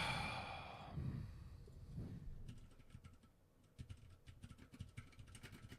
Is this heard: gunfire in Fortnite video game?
no